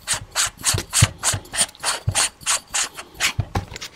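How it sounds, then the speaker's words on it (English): A silencer is screwed back onto a Hatsan Blitz full-auto air rifle, giving a steady series of about a dozen rhythmic ratcheting, rasping turns, close and clear with no talking. "Let me screw this back in."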